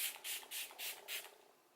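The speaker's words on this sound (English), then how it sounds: "I'm going to first spray my face with this" Smashbox Primer Water is misted onto a face in five quick, close spray bursts with short gaps between them, crisp and breathy, then silence.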